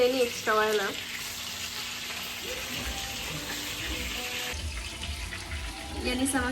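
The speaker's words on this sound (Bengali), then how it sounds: "আমি কড়া করে পাঙাশ মাছ ভাজলাম" Pangas fish fries crisply in a pan with a steady sizzling hiss throughout, while faint voices and short bursts of background sound come and go around it.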